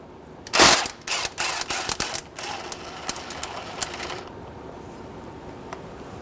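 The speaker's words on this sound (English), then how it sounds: "Using a 19mm socket, we're going to remove the crank bolt." A 19mm socket on a ratchet works loose the crankshaft bolt of a 2003-2008 Honda Pilot: a sharp metallic clack, then a quick run of ratcheting clicks, fading into quieter mechanical ticks and shop ambience.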